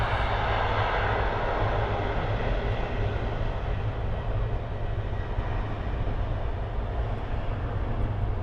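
A jet airliner roars in a steady, broad rumble while taking off at Miami airport, heard loud and continuous from a nearby plane-spotting position, with no talk.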